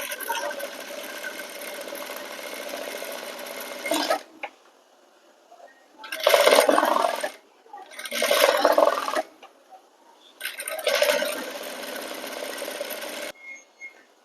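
Sewing machine stitching a border with a half-inch gap and thread piping on a garment sleeve, running in loud steady bursts with short pauses between stitching runs, no talking.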